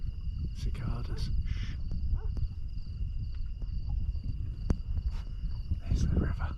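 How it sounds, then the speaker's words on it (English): Cicadas buzz as a steady high drone along the Guadiana River at night, continuous and moderately faint under rustling, with a few scattered knocks and distant sounds. "Listen to them cicadas."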